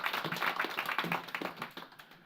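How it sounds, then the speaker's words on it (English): Audience at a university event claps for a young fintech founder, a brief burst of individual hand claps, fairly quiet and thinning out toward the end. "Alfie Ruffle, give Alfie a big round of applause"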